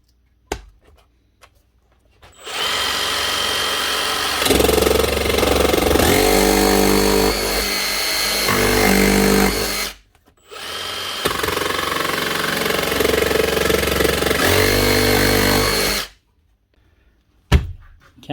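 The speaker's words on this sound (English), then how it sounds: "as soon as you actually start cutting then, it'll ramp up the speed" Makita DJV185 cordless jigsaw running in two loud bursts of several seconds each, its soft start ramping the motor up into a harsh buzzing drone with a sharp stop after each run, no talk.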